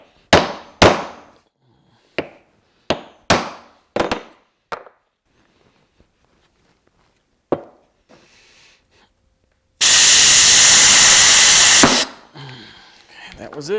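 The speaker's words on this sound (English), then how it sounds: "give it a little whack with the hammer just to free the piston up" Hammer whacking a Kawasaki KZ750 brake caliper to free a stuck piston: a string of sharp metallic clangs that gradually thin out and fade, followed by a loud burst of hissing spray.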